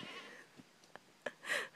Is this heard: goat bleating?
yes